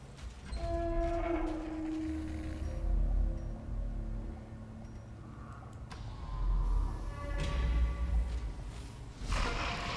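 Pig enemies in Darkest Dungeon give low, drawn-out grunting and lowing calls, several in a row, over a dark game ambience with occasional thuds.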